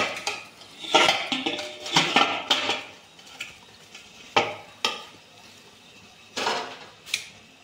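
Steamed sabudana and potato dough is scraped out into a bowl with a utensil, producing repeated metallic clanks, knocks and scraping against the cookware, close up and irregular.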